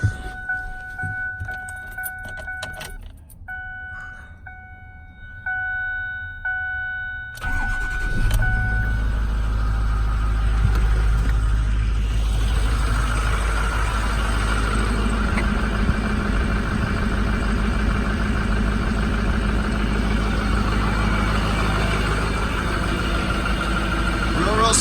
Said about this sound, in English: Okay, I'll start it up and let you listen to it.